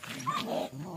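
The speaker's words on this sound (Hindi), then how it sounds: "कुत्ते जो है ना हमें वीडियो भी शूट नहीं करने दे रहे हैं" Dogs bark at night at a reputedly haunted spot, a short burst of close barking and yips mixed with a person talking nearby.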